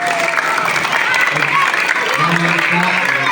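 Audience applause at a Balinese comedy show, a steady dense wash of clapping from a crowd that carries through the whole moment, with faint voices and tonal sounds mixed underneath.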